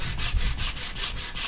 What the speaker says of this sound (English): At least I have a sanding block for this.